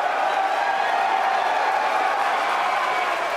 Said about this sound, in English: And you hear the cheering in the background.